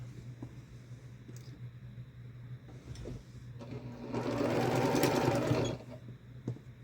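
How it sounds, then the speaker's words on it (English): A sewing machine stitches quilt block pieces together with a quarter-inch seam, running in a close, steady whir for about two seconds after a quiet stretch of faint handling noise. "So I'm going to put those together and sew a 1/4 inch down to make one of our corner units."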